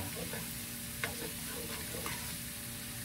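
Garlic sizzles in a pan for chicken pastel. The frying is a faint, steady crackle, with a couple of light clicks from the pan.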